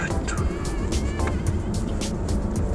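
A 2017 BMW 740Li engine pulling under acceleration from low revs, heard from inside as a steady, fairly quiet hum and road rumble with scattered clicks and bumps, no talking.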